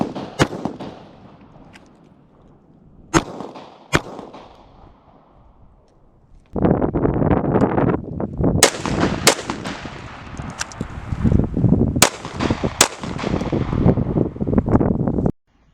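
Rifle shots crack out during firearms drills on an outdoor range, starting with a few isolated reports and then several sharp shots in quick succession over steady wind noise.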